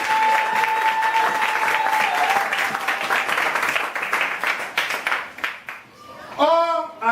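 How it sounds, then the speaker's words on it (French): A church crusade congregation in the Central African Republic applauding, with dense, loud clapping from a large crowd that fades toward the end as a voice speaks over it. "Acclamons pour l'Éternel."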